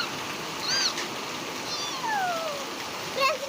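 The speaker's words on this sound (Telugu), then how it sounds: "ఫుల్ వాన పడుతుంది" Heavy rain pours down in a steady broadband hiss throughout, while a cat meows several times, rising and falling, over the downpour.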